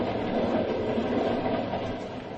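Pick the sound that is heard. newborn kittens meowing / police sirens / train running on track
train running on track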